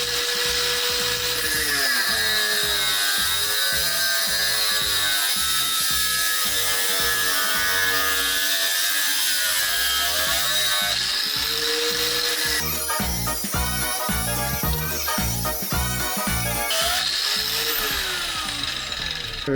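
An Expert angle grinder whines continuously at high pitch while cutting through material, with grinding bursts and rising and falling pitch as the blade bites, loud and close.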